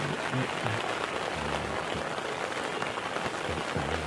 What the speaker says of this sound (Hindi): काफ़ी तेज़ बारिश हो रही है इस समय